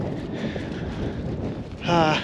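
Strong wind buffets the microphone in a continuous low roar, with a voice briefly breaking through near the end.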